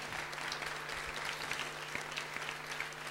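An audience at a village television show applauds a woman named Annette with steady crowd clapping, a low hum running beneath it.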